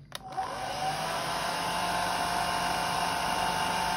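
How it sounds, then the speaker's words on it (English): A hair dryer switches on with a click and then runs with a steady, loud whirring blow and a constant motor whine, close by, with no voices, during a miniature painting session. "I'll turn the hairdryer back on."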